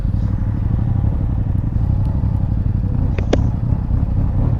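Yamaha T-Max 560 scooter, a 2020 model, with its engine running at a steady low idle throughout, a continuous close rumble with a few light clicks and clatter.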